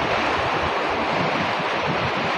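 Surf rolls and hisses along the shore at high tide under blustery weather, wind rumbling across the microphone in a dense, unbroken wash of sound for a couple of seconds.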